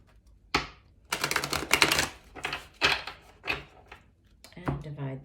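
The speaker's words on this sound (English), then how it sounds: "Okay, we'll do one last shuffle." Deck of tarot cards being shuffled, a cluster of crisp riffling and slapping bursts in quick succession with a few separate taps, close by; a voice talks briefly near the end.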